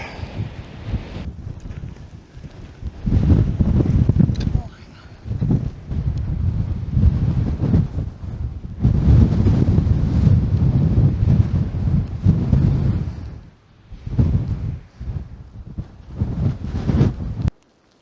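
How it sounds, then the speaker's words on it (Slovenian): A southwest wind gusts hard across a mountain ridge near an alpine hut, buffeting the microphone in long roaring surges broken by brief lulls. "Predvčerajšnjem je iz Krme pihal, se pravi bolj severni veter, danes pa jugozahodnik"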